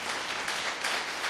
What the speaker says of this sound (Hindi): पहले तो यीशु के लिए ताली हो जाए